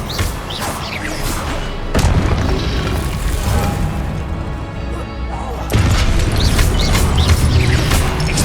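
Spell effects from Hogwarts Legacy burst out as heavy booms and crashes, with sharp impacts around the two- and six-second marks over a rumbling magical backdrop. The sound is loud and busy.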